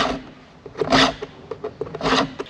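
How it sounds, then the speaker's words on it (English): A hand file rasps across a chainsaw chain clamped in a workshop vise, sharpening the teeth for cutting green wood; two long bright strokes with shorter scraping pulls between, close and fairly loud, with no talk. "it's probably not totally necessary and nice green wood like we got now to sharpen the chain after every tankful"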